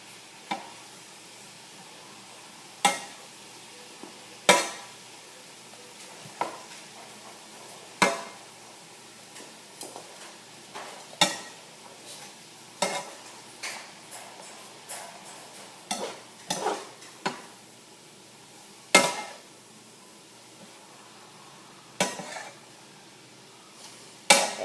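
Onions fry in a pan with a low, constant sizzle while a spoon scrapes and clacks against the pan in irregular strokes, one sharp knock after another over the quiet hiss.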